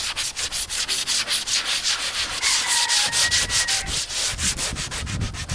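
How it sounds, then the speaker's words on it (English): Steady, rhythmic sanding with 60-grit sandpaper on a Hobie Wave seat pad area, rapid back-and-forth strokes scraping loudly and close up, with no talking. "you can move on to some sandpaper if you want, which I'm going to"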